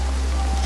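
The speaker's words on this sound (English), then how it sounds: "the rain has not stopped" Heavy rain falling as a loud, dense, continuous hiss with a strong low rumble underneath, with no voices over it.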